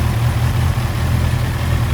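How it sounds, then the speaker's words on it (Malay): A Honda CB650R motorcycle idles nearby with a steady, even low rumble throughout and no voices. "Okey, so sekarang ni motor dalam keadaan idle."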